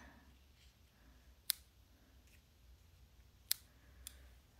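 Scissors trimming the ends of paper for a card, two sharp crisp snips about two seconds apart and a fainter third snip, close and quiet against near silence.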